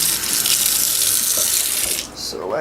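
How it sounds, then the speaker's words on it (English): Dirty water from cleaning a pipe or bowl is poured out into a sink as one steady, loud rush that breaks into splashes and trickles near the end, heard alone and close. "So we're going to dump out the water."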